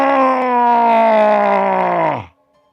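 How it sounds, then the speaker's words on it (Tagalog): A loud, sustained male cry of pain with a strained, harmonic tone, holding steady for about two seconds before abruptly cutting off into silence. "Malakas na sigaw ni Dimos habang sinusunog ng kidlat ang katawan nito."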